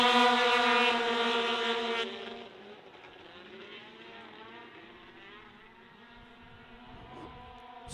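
Racing snowmobiles roar past at a Canadian Power Toboggan Championships race, a loud, high, buzzing engine whine at first that quickly drops away into a fainter, distant drone.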